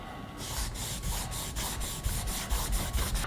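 A knife blade scrapes in rhythmic strokes across a 2000 grit whetstone, about a dozen quick, hissing rasps in steady back-and-forth succession, close and fairly soft, with no talking.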